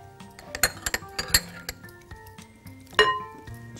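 Apple and beet salad being stirred in a bowl, with a series of bright clinks and taps of a utensil against the dish, irregular and close, quiet in between.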